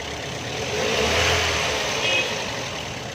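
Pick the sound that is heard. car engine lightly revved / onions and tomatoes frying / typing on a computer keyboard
car engine lightly revved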